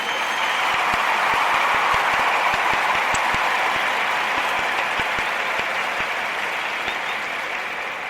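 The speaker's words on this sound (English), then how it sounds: "I got to give them a round of applause" A crowd applauds county officials with sustained, dense clapping that holds steady and loud for the full stretch, easing slightly toward the end.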